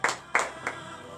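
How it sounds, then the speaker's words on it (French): Members of a church congregation clap, three sharp, evenly spaced claps close by, each one fading quickly. "je vous demande de vous lever et donner de vives acclamations à notre Seigneur"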